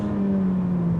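A Ferrari F430 engine hums steadily from inside the car, a strong low tone with a slight downward drift, loud and continuous with no talk.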